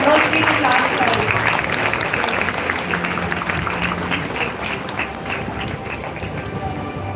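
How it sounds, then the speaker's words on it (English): Audience applause at a senior school annual day, a steady, dense wash of clapping that holds for several seconds before easing slightly, with a voice heard faintly beneath it. "a big round of applause for these youngsters and all the teachers"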